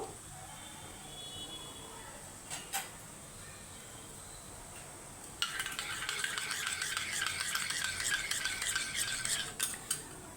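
Yogurt stirred into fried masala in a pan while cooking a Bengali bhetki fish curry: quiet background, a couple of clinks, then continuous close scraping and stirring of a spoon against the pan.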